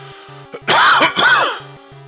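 One close, loud throat clearing with a rough cough-like burst in two pulses, heard alone against a quiet background with faint repeating beeps from a video game.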